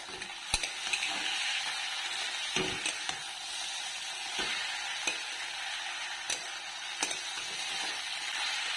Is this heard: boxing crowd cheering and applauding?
no